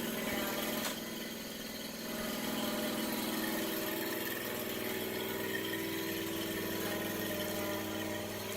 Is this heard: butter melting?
no